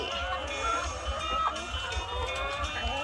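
Laying hens clucking on a Thai egg farm, a steady flock chatter with overlapping calls and a low background hum throughout.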